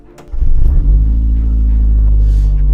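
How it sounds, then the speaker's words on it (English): A turbocharged wide-body Mazda Miata starts up and idles as it pulls out, a loud, close, steady low engine rumble that swells quickly and holds without talk. "I'm gonna pull the car out here into a bit of better lighting"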